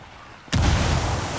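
A grenade detonates in a video game with one sudden loud blast after a quiet moment, followed by a sustained rumbling tail.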